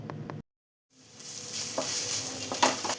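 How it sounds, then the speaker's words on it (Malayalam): Sliced onions being sautéed and stirred in a pan until golden brown, a brief scrape, then a short silence followed by a rising close sizzle broken by a few scraping strokes of a spoon. "സവാളയെല്ലാം ഗോൾഡൻ ബ്രൗൺ കളറാവുന്നവരെ നന്നായി തന്നെ ഒന്ന് വഴറ്റിയെടുക്കാം."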